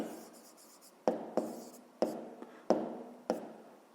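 Pen writing out a fifth-grade maths exercise on paper, with a soft continuous scratch broken by several sharp strokes and taps in an uneven rhythm, close and alone.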